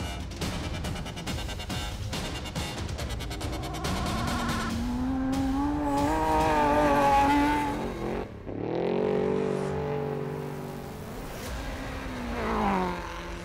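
An off-road race car runs flat out on a lap of the Goondiwindi 400, its engine roaring loud and close, climbing through the revs and shifting with a brief dip before pulling hard again, no talk.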